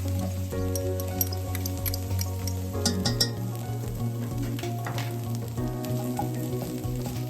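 Chopped garlic sizzles in a pan with translucent softened onions, a steady close frying crackle with occasional stirring scrapes as it heats through.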